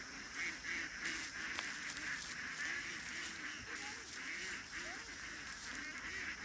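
A large flock of ducks near a dairy farm keeps up a continuous chorus of overlapping honking quacks, moderately loud and steady throughout.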